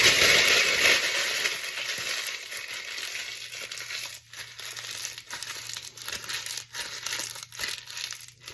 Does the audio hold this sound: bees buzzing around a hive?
no